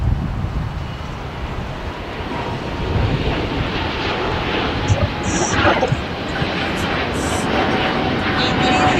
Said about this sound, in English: just departing here on the 25s on the south side was Singapore Airlines Flight 11 back to Tokyo Narita